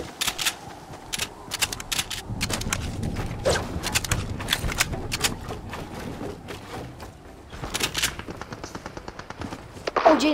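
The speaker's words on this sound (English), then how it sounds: "Dude, they're shooting from behind us." Rapid gunfire in a battle royale video game, heard as bursts of sharp shots in quick clusters with quieter stretches between them, fairly close and loud.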